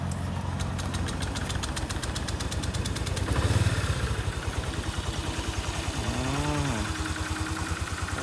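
Honda Click 125i scooter engine idling close by, a steady rapid low-pitched thrum with a brief rising tonal whine partway through.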